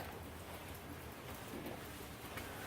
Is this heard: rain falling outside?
yes